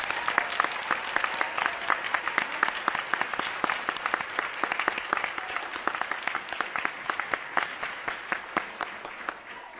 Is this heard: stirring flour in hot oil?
no